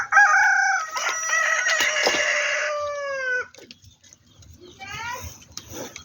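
A rooster crows loudly right at the start, then native Filipino hens cluck and squawk nearby, with a few scattered softer calls trailing off.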